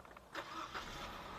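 Car engine idling smoothly at a vehicle auction in Palembang, heard as a steady low mechanical hum with faint higher whirring, close by and continuous with no talk.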